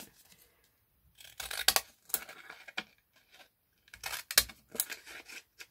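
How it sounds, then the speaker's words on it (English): Decorative scissors snip along the edge of a handmade card, giving a few separate bursts of crisp paper cutting with short quiet gaps between them, close and moderately loud. "I'm just going to use the same decorative scissors and go up the edge just to match it in with the edge of the card"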